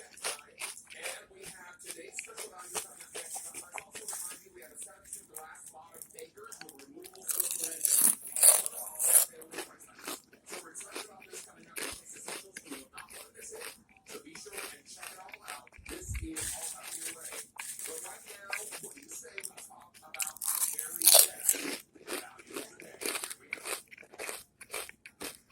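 Crunchy, spicy food is bitten and chewed up close in a steady run of crisp crunches and munching, with intermittent talk in between.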